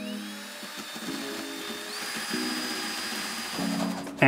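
A high-pitched DeWalt power drill with a wire bit whines steadily while carving foam, its pitch rising partway through, with rough grinding as it cuts, and no voices.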